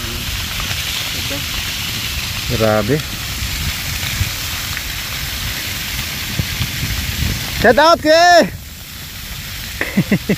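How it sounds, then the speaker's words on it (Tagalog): A steady roaring, crackling rush like a large fire whipped by wind, continuous and loud, with a voice exclaiming briefly over it. "Talagang malakas na ang apoy."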